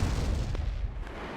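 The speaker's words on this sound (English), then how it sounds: "Missile launch confirmed." Missile launch in Red Alert 2, heard as a steady low rumbling roar that holds at an even loudness throughout, with a brief muffled thump near the middle.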